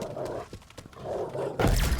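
A dog barks in Call of Duty Cold War Zombies, a few short barks in the first half amid game noise, followed by a loud burst of in-game effects at the end.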